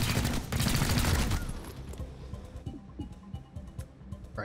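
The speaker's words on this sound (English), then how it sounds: "I want you to fire your weapon" Weapon gunfire in XCOM Chimera Squad breaks out as a dense, loud burst of rapid shots over about a second, followed by quieter scattered pops and clatter.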